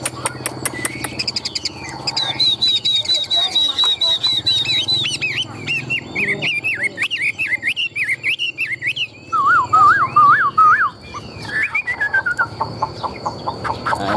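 A Chinese hwamei songbird sings loud, varied whistled phrases close by, with rapid trills and warbles running continuously.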